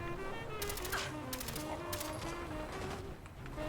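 Rapid gunfire in Fallout 4 on survival mode comes in several quick rattling bursts of shots at moderate distance, separated by short gaps over a continuous background hum.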